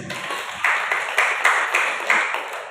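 A church congregation claps in a steady, evenly spaced rhythm, moderately loud, each clap crisp over a light wash of room noise.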